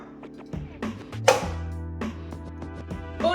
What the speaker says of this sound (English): cutting these jokers up in some bite-sized pieces here